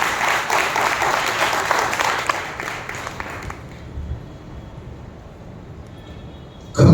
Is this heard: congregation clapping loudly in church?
yes